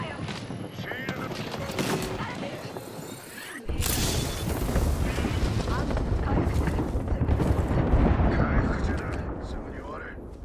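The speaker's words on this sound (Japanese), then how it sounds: "空爆だよ。" Airstrike explosions in the Apex Legends battle royale game: dense booming blasts and rumbling impacts, heavier after a sudden surge, continuing almost without pause.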